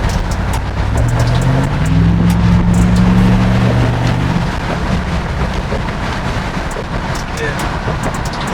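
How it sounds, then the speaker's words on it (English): A 2019-2021 Chevrolet Silverado Trail Boss Z71 with a muffler-delete exhaust accelerates, its deep engine note swelling and climbing over a few seconds before easing off. Heavy wind rushes in through the open windows throughout. "Let's step on it one time."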